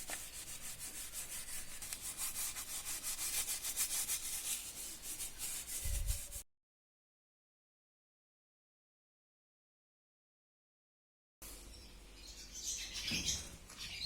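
A brush works degreaser over a motorcycle's rear brake caliper on a YZF 750R with steady, close scrubbing strokes, cut by several seconds of total silence before the scrubbing resumes.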